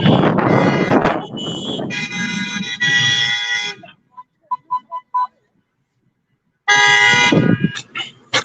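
Car horns honking in a street during an anti-lockdown protest rally in Toronto, with bursts of sustained horn tones, a cluster of short toots, a pause, and another long blast amid crowd noise.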